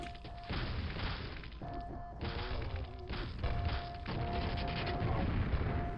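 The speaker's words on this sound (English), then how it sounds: "Jeez, these grenades are everywhere!" Grenades explode in Quake, giving heavy, booming thuds one after another in a dense, continuous barrage. Background game tones run underneath.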